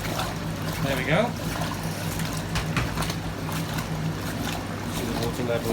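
A Hotpoint Supermatic Deluxe S9414 twin-tub washing machine drains water in a steady, close, low gurgling rush with a constant motor hum underneath, continuous throughout.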